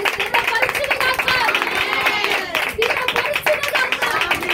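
A church congregation at a Vijayawada worship service claps loudly and steadily, a dense wash of many hands filling the room, with voices mixed in throughout.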